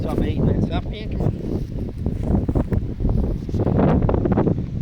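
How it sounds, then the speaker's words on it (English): Strong outdoor wind buffets the microphone with steady, gusty rumbling while a poodle plays fetch with a ball, and someone talks over the noise throughout. "God, it's windy."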